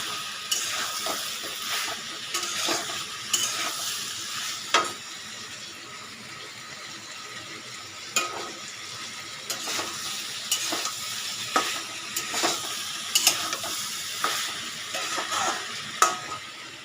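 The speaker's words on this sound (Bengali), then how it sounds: "এই যে ডাল সেদ্ধ করাই আছে, ডালটা ফোড়ন দেবো।" Spices sizzle in a pan while boiled dal is tempered, with a steady frying hiss broken by repeated stirring scrapes and bursts at irregular intervals, close and moderately loud with no talking.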